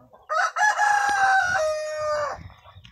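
Rhode Island chickens at a poultry farm, with a rooster letting out one loud, drawn-out crow up close, followed by softer clucking and low background murmurs.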